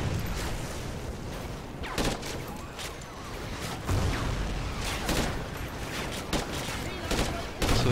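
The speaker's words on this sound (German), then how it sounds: "immer wieder die Bombeneinschläge hier" Bomb impacts and bursts of gunfire at a front line in Call of Duty: Ghosts, dull booms recurring every second or two over a steady rumbling battle din, with faint speech in the mix.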